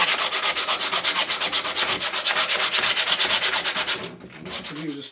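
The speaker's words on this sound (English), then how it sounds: "It's going to give the legs a little bit of sanding." Continuous rhythmic scrubbing of sandpaper on the old wooden legs of a washing dolly, close and steady with regular strokes for about four seconds, then easing to a lighter, uneven rub at the end.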